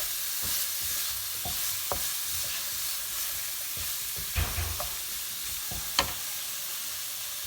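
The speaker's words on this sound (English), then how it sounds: "we have to brown the bitter gourd pieces on both sides" Bitter gourd pieces browning in a hot pan give a steady broadband sizzle, with scattered scrapes and taps of a utensil turning them, one sharper knock standing out near the end; no voices.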